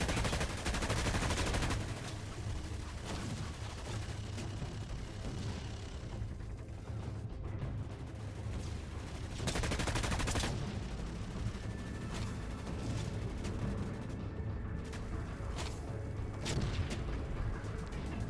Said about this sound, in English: The burst assault rifle fires 6 shots in quick succession.